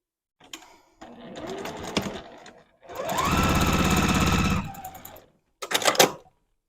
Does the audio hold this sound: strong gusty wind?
no